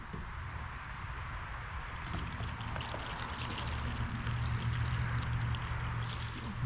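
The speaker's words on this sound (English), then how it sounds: "we're going to go ahead and pour it into here" Herbal liquid made with hawthorn, cayenne and dandelion poured into a container, a steady close trickling stream that grows fuller and louder after the first couple of seconds and runs on without break.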